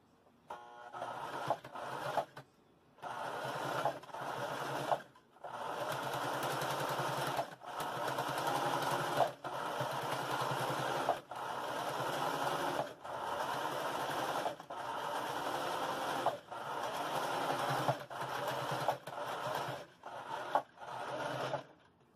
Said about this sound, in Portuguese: E agora eu vou lá na máquina fazer a costura aqui e volto para mostrar a vocês.